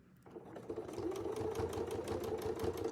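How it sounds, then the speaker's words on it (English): A sewing machine stitches a quilt with a quick, even mechanical chatter that starts after a brief quiet moment and runs steadily and fairly close. "Now I'm going to stitch over that just a tiny bit, just a few stitches."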